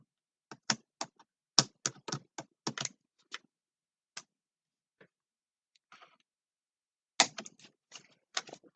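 Paper being trimmed for an envelope mini album, a series of close, crisp clicking and snapping taps in quick irregular bursts, with a quiet pause in between before another cluster of sharp clicks.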